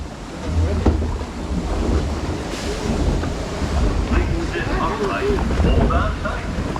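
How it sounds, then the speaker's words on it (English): Water rushes and splashes around riders on a Busch Gardens log flume, a loud, continuous wash mixed with wind buffeting against the microphone, while people talk and exclaim over it. "Here we go, log flume, ready to get all wet."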